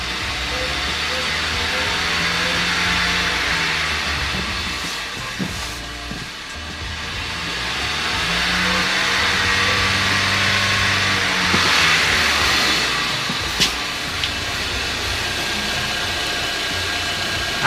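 A Ford Maverick engine revs up to around 3,500 RPM and holds, the steady mid-range drone swelling and easing in broad waves, heard close and fairly loud with a few faint clicks.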